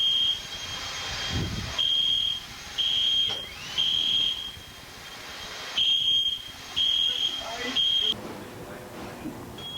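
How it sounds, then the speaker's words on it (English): A high-pitched alarm beeps in repeated pulses of roughly a second each, steady and piercing, over a rumbling background. "The fire alarm went off."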